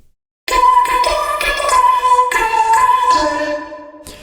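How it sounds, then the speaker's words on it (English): A bright, resynthesized vocal-chop synth tone made in UVI Falcon sings a short phrase after a brief silence, with shimmering effects and a few tapping hits, loud and close. "with this kind of resynthesized vocal sound"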